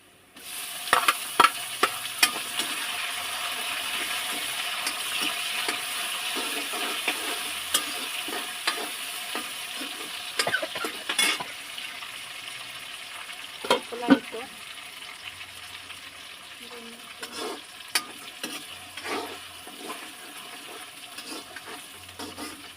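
Tomatoes sizzling steadily in a hot pan for a dry prawn dish, with scattered scraping stirs and occasional clinks, close-up and continuous with no talk.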